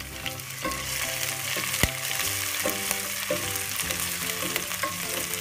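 Four green chillies sizzle and fry with ginger garlic paste in hot oil, a dense steady crackle with occasional sharp pops and clinks of a spoon stirring the pan, no voices.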